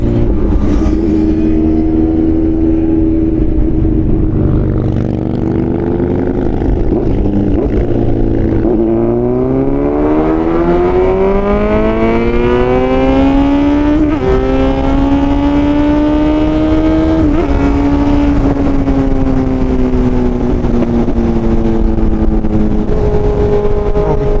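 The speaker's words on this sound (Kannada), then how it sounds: "ಇಂಜಿನ್ ಒಂದೇ ಇಟ್ಕೊಂಡಿರೋದ್ರಿಂದ ಒಂದು ಕ್ರೇಜಿ ಅಡ್ವಾಂಟೇಜ್ ಇದೆ ಈ ಸೌಂಡ್ ಹಂಗೆ ಇರುತ್ತೆ" A Kawasaki Z900 motorcycle fitted with an Arrow full-system exhaust revs loudly and close, its engine note climbing and falling through several long throttle sweeps over a steady growl, no speech.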